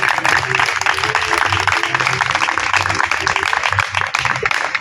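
A church congregation claps loudly and continuously in a sustained, dense burst, with voices running through it the whole time.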